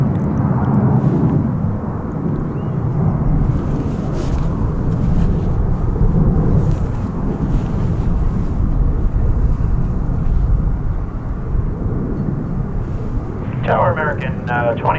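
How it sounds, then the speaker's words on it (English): An Alaska Airlines Boeing 737-900 jet takes off at DFW airport with a loud, steady, broad roar that holds for the whole stretch, and a brief voice sounds near the end. "Alaska Flight 573 to Seattle, 737-900 is next on our takeoff list."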